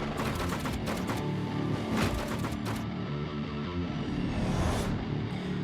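A minigun in a VR video game fires in rapid continuous bursts, a dense rattling roar with sharp repeated impacts layered over game effects and music, heard at moderate level throughout.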